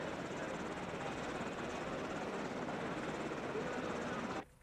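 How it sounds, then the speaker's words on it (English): UH-60L Black Hawk military helicopter producing a steady, loud, broadband rotor and engine roar that holds constant before cutting off abruptly at the end. "It's a UH-60 Lima Blackhawk helicopter."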